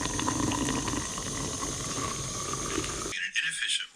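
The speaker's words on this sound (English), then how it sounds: "I'm gonna boil some water and fill up my Nalgene bottle" Water boiling in a pot on a camp stove inside a snowbound mountain shelter in winter, a close, steady roaring hiss that cuts off abruptly near the end.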